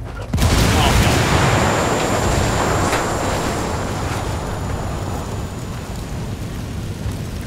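Grenade blast and sustained gunfire in the tactical shooter Ghost Recon Wildlands: a loud broadband burst at the start, then a dense rumbling, crackling wash of shots and debris that stays heavy and steady throughout.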